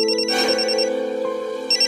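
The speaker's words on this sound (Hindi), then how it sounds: "फोन उठा लो, काम का होगा।" A mobile phone ringtone plays loudly and steadily as a melodic electronic tone, ringing continuously through a quiet moment in a conversation, with no one speaking over it.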